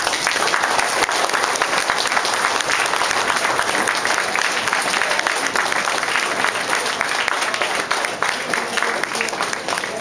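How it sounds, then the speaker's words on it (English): A crowd applauds loudly and steadily at a Scout merit badge college ceremony, dense clapping filling the room for the whole stretch without letup. "I'd like to give them a round of applause"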